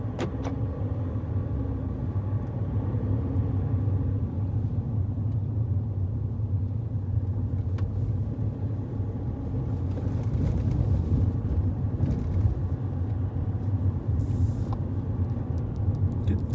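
An adapted learner car pulls away on a road, its engine a steady low rumble that holds close and continuous from start to finish, with faint mechanical ticks and road noise layered over it.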